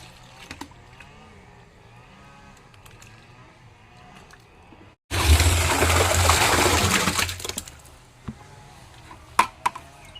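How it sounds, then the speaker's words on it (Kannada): Cow dung being mixed with water in a drum, a loud, close wet churning and sloshing that starts abruptly midway and continues for several seconds, after a quieter stretch of faint background noise. "ಡೈಲಿ ಸಗಣಿಯನ್ನು ತಂದು ನೀರಲ್ಲಿ ಮಿಕ್ಸ್ ಮಾಡಿ ಈ ಡ್ರಮ್ಮಲ್ಲಿ ಹಾಕಿಡೋದು"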